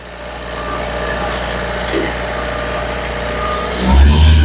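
A Tata Safari engine idles after an overhaul, a steady low drone with a louder thump and rise in the last half second.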